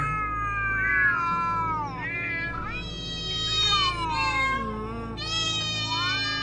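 Cats meow and caterwaul in long, wavering, overlapping cries that rise and fall, loud and close, with several drawn-out yowls following one another.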